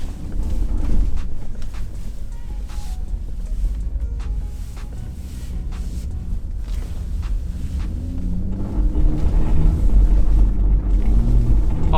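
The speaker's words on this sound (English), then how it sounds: "we're in some thick snow right now. Traction control is off and we're just kicking it" A Jeep ploughing through thick snow with traction control switched off, a steady low rumble of engine and tyres churning, building louder toward the end with scattered crunching thumps.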